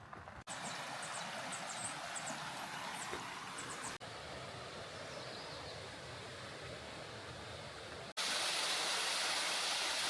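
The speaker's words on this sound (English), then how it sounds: "It's a waterfall." Steady broadband rushing of falling water, continuous and fairly distant, with abrupt cuts where it jumps to a louder, brighter roar at the end.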